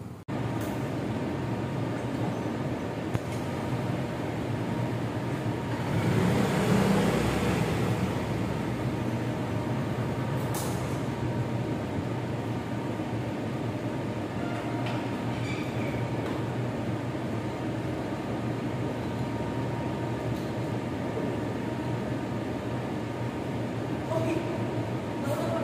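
Yamaha Mio Gear motor scooter on the move, a steady engine hum with rushing wind noise throughout, fairly loud and close with no clear changes in pace.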